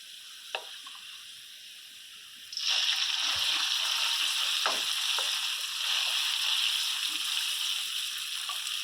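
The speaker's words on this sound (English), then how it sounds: "we're just frying the noodles a little bit" Noodles frying in hot oil, a steady sizzle that suddenly grows louder partway through, with occasional soft clinks and stirring sounds.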